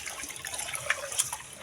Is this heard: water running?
yes